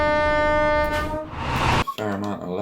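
A low-tone train horn sounds from an East Coast Main Line train in a simulator game running London King's Cross to Edinburgh Waverley, a steady harmonic blast about a second long over engine rumble, then a brief gap before a second horn tone.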